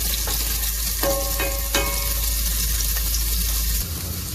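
Carrots frying in a pan for a Caribbean cod and plantain dish, a steady close sizzle with a few sharp scraping clicks of stirring, no talk.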